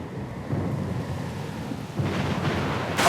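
A thunderstorm at sea in Pillars of Eternity II: Deadfire, with a steady low rumble of thunder, wind and rain swelling slightly toward the end, heard alone without voices.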